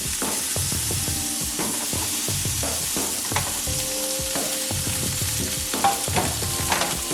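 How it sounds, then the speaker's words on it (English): A ribeye steak searing in a preheated oiled pan gives a loud, dense sizzle with crackling spatters and occasional clinks, close and continuous with no speech. "Now that our pan is preheated, we're gonna take our steak and we're gonna cook it."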